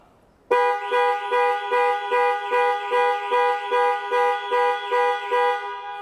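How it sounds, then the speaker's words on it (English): A 2021 Range Rover Velar's horn blares from its panic alarm in a steady repeating pattern, about ten loud honks in quick rhythm, close by with no talk. "press 3 times in 3 seconds, and the horn will sound and the hazard lights will flash"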